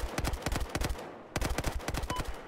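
Rapid bursts of automatic gunfire in Battlefield 4 crack in quick succession, with a brief pause midway before another volley of shots.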